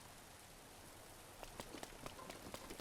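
Rain falls in The Legend of Zelda: Breath of the Wild as a faint, steady hiss, with scattered drop-like patters that grow more frequent toward the end.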